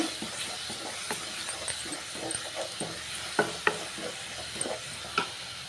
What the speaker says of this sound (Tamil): புதினா, கொத்தமல்லி, கருவேப்பிலோட பச்சை வாசனை போகிற வரைக்கும் நல்லா மிக்ஸ் பண்ணி விட்டுக்கலாங்க.